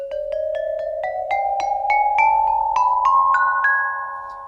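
Homemade chimes made from cut aluminum lawn chair tubing, struck one after another in a rising sequence of about a dozen bright, ringing metallic notes that sustain and overlap, close and clear with no talking.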